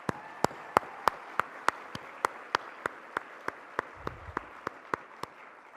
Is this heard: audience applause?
yes